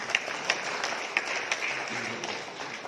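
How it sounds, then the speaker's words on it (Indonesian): Applause for regent candidates at a Hanura party inauguration in Yahukimo, a moderate, steady patter of many hands with a few sharper claps standing out, fairly distant and low in level, with faint talk beneath. "Tepuk tangan untuk calon bupati"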